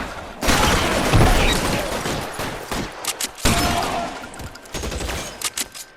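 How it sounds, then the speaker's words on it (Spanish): Shotgun blasts and gunfire from the video game L.A. Noire burst out in loud bursts, a long roaring volley followed by a second heavy blast and several shorter sharp cracks toward the end. "con la escopeta como revienta, ¿no?"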